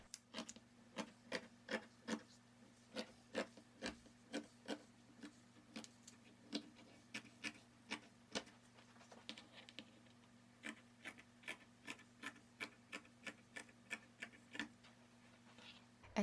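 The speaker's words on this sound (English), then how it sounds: "Here I'm just cutting out the sleeves." Scissors snip through dress-sleeve fabric in a quiet, steady series of crisp clicks, evenly spaced and close, over a faint low hum.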